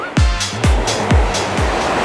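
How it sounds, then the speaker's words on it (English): Water surging in a Wet n Wild water park wave pool during the wave cycle, with repeated whooshing swells arriving about every half second, loud and close with no talk. "this is currently the cycle with the waves on"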